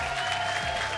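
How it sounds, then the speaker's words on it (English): An audience at a Tekken esports team tournament applauds the champions receiving their medals, with a dense, steady burst of clapping throughout. "you may applaud your champions"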